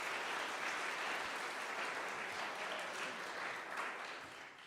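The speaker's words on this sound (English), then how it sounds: "So a big round of applause for them as well." An audience at a live event at PSU applauds the volunteers, a full, steady roar of many clapping hands that holds evenly and then gradually tapers off toward the end.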